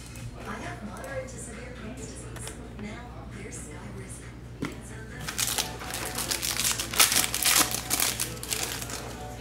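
Foil football card packs from a 2021 Mosaic hobby box being torn open, with crinkling and sharp ripping that grows louder and busier in the second half over a steady low hum, a voice talking earlier.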